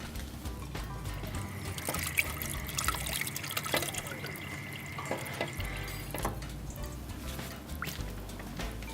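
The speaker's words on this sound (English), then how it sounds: "Then you add little water in." Water pours into a pot of pasta sauce being cooked, a faint steady trickle and splash with light clinks from the pot, continuous under kitchen background noise.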